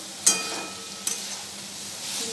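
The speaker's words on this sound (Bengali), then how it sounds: "তো সোয়াবিনটা কষিয়ে নিচ্ছি ভালো করে।" Soybean chunks sizzling in a pan as they are stirred and sautéed, a soft continuous hiss broken by a couple of sharp scraping strokes, fairly quiet and close with no voices.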